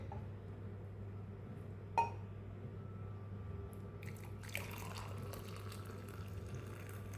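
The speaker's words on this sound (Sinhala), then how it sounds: "අපි දැන් මේ උතුරු වතුර ටික දාගමු." Boiling water poured onto leaves and stems in a container, a soft, low pour that begins partway through after a single faint clink, with a steady low hum underneath.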